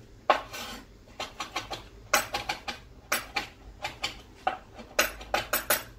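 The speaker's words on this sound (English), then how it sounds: "I use my trusty Shimano knife to chop" A Shimano kitchen knife chopping ginger coarsely on a board: brisk clusters of crisp, close tapping cuts in an uneven rhythm, with short pauses between bursts.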